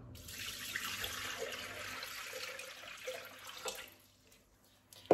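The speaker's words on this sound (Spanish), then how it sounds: "Vamos a poner 1 litro de agua." Water from a tap running steadily into a Thermomix bowl, a continuous pour of 1 litre of water for cooking tagliatelle, tapering off near the end with a short bump at the close.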